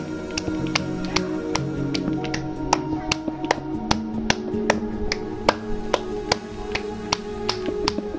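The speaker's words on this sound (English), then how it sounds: "stop clapping." A child claps his hands in sharp, regular bursts, the bright claps repeating at an even pace over a low household hum, with no talk.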